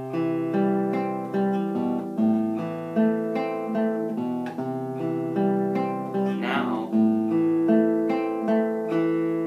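Fingerpicked acoustic guitar plays a steady, rolling pattern of plucked notes and chords from the verse of a song, clear and close with no voice over it.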